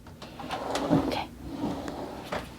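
Kitchen drawer in a model-house kitchen slid open, giving a short rolling scrape with a few light knocks, heard up close amid quiet room sound.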